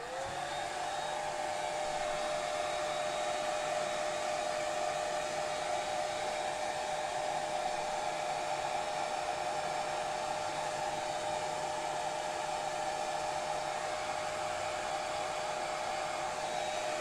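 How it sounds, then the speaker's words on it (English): A hair dryer on its cool setting blows over a craft project, making a loud, steady, unbroken whirring hum for the whole stretch with no talking. "I'm going to blow dry that, so watch your ears a little bit."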